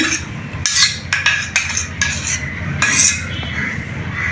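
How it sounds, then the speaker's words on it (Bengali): A spoon whisks sour yogurt in a bowl for beef biryani, giving brisk, irregular metallic clinks and scrapes, close and fairly loud, with no voices. "টক দই এটা চার চামচের মতো আছে আমি ফাটিয়ে নিচ্ছি"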